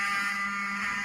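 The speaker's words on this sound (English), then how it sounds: "I want him to hear the fire alarm." A building fire alarm blares a steady, piercing electronic tone, loud and unbroken, with no talking over it.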